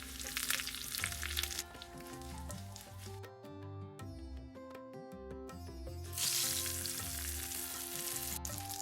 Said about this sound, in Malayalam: എണ്ണ ചൂടായി 1 ടീസ്പൂൺ കടുകാണ് ഇടുന്നത്.